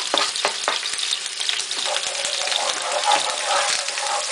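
Anchovy pasta ingredients sizzling and crackling over low heat in a hot pan, a loud continuous frying hiss with occasional pops and stirring sounds.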